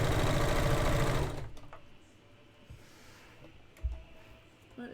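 A fabric cutting machine strains and grinds loudly for about a second and a half while slicing through petticoat fabric, then cuts out to a quiet room with a few faint clicks and taps.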